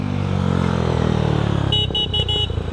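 A KTM Duke 390 motorcycle engine revs hard during a wheelie, a loud, close, rising roar that gives way to a burst of road noise and a horn-like tone near the end.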